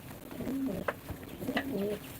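Rajshahi Giribaz and racer pigeons coo in a few soft, low rolling phrases, close by, with faint background noise and no voices.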